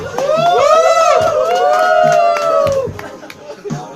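A lively crowd at a lookalike contest show cheers and shouts, with high whoops and children's voices rising over a roar of voices and light clapping. Loud and close, it fades slightly near the end.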